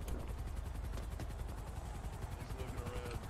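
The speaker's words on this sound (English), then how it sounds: "I have a helicopter taking off from a very small convenience store roof" Helicopter lifting off from a small convenience store rooftop in a video game, a steady loud rotor chop with dense engine roar that holds throughout without a break.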